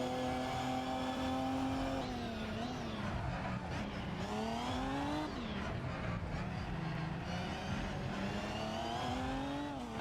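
A race car accelerates out of a corner with the throttle applied too soon. The engine note rises and dips repeatedly and stays loud and close for the whole stretch, with no voices.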